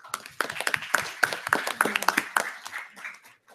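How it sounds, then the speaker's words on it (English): An audience at a COP22 conference session applauds, sharp claps rising to a steady patter of hands that thins out and fades after a few seconds. "Please give him a round of applause."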